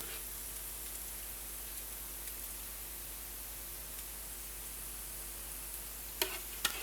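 Hot oil, just used for frying onions for chicken biryani, gives a faint, even hiss, with a couple of sharp little pops near the end and no voices.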